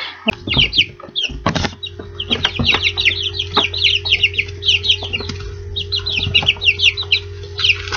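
Several chickens cluck and chirp continuously nearby, with a few thumps early on and a low steady hum underneath.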